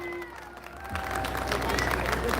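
Audience applauding and cheering for a singer at an outdoor evening serenade marking the 197th anniversary of the Battle of Ayacucho in Huamanga; a voice is heard first, then the crowd noise swells after a second and holds steady.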